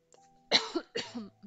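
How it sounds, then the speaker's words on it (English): Two rough, close coughs in quick succession with throat-clearing quality, a short bout in an otherwise quiet room. "This coughing is killing me."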